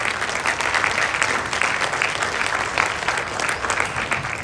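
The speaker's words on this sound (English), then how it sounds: "Round of applause." Sustained audience applause at an outdoor freedom festival gathering, a dense steady roar of many hands clapping for the guest speakers, loud and continuous throughout.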